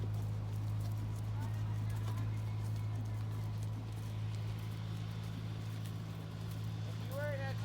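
Ridden horse moving at a jumping lesson, its hooves giving faint clip-clop beats under steady background rumble and occasional bird chirps, while a person talks throughout.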